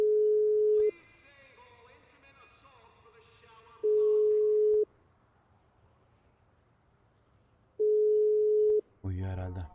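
Phone ringing tone on an outgoing call, three long steady electronic tones about four seconds apart with quiet gaps and faint background noise between them, close and clear, with a brief noise burst at the end.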